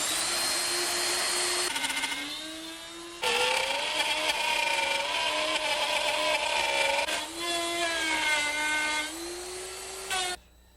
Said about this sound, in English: Now that I got it all routed out and all nice and squared off with the edges